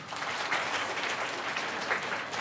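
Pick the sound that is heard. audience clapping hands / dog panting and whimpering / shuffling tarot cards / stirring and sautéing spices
audience clapping hands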